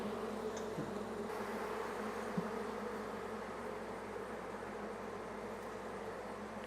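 Honey bees buzzing around an open hive during a late-season inspection, a dense continuous hum of many insects close by with no talk.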